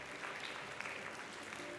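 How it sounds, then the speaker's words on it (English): Quiz show studio audience at an ASEAN quiz in Malaysia applauds a correct answer, a brief, faint, steady patter of clapping with no talk. "That's a big round of applause for Malaysia"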